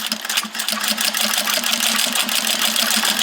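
Sewing machine stitching across the end of a leather key fob, a loud, close, rapid rhythmic chatter of needle strokes that runs evenly throughout.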